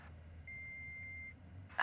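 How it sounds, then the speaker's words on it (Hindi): A single steady electronic tone from an answering machine, faint and clean, held for under a second before a louder noise cuts in at the end. "प्लीज अपना मैसेज छोड़िए इस बीप के बाद"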